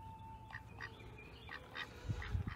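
Ducks on a farm quack in a run of short, fairly faint calls, several separate quacks spaced through the scene with a slightly louder burst near the end.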